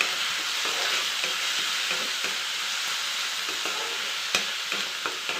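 Onion and tomato fry in a pan for a Karnataka-style okra tamarind curry, a steady close sizzle with faint stirring scrapes and a few sharper clicks near the end, no voices.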